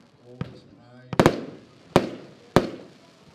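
Large, wide-breaking firework shells burst outdoors in a sharp series: a faint pop, a loud double crack, then two more heavy bangs, each trailing off into crackle, with a brief tonal whistle near the start.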